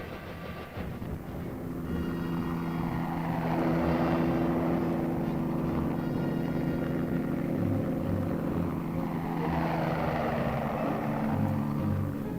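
Loud, steady rotor thrum of a helicopter flying nearby, with a deep pulsing drone that swells and holds throughout.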